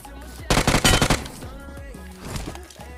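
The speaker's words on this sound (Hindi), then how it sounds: "जैसे इसको फिनिश किया, सामने वाले घर से मुझको फायरिंग आई।" Video game gunfire comes from a house across the way: a loud, rapid automatic burst of shots lasting under a second, then quieter scattered in-game sounds that fade to a low background.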